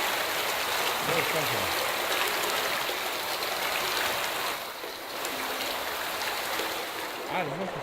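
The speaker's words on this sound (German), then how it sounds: "das Wasser steigt an" Water rushes and rises after a shutoff valve is opened in an adventure game, a continuous loud flowing hiss with some faint tonal sounds underneath.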